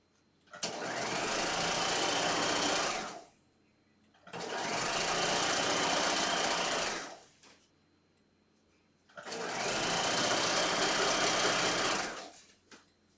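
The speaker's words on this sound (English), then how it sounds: "be careful not to stretch your bias as you're stitching it on" A sewing machine stitches a bias facing onto a garment hem with a 1/2 inch seam allowance, running in three steady buzzing bursts of about three seconds each, separated by short pauses, close and fairly loud.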